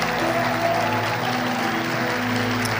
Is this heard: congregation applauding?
yes